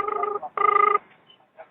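A telephone rings in two loud electronic warbling bursts, the second longer and brighter, followed by a short quiet gap and a faint trailing blip, close and clear with no talk over it.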